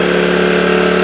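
A small 800 watt generator engine runs at half throttle and half choke, giving a loud, close, steady droning hum with no change in pitch and no voices.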